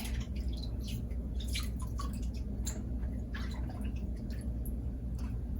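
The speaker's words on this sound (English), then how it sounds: "We got our water bowl. I'm gonna go ahead and scrub it up, and rinse it up." Hands scrub and rinse a bowl of water, giving steady close wet sloshing with small drips and squishy rubbing, continuous and moderately quiet.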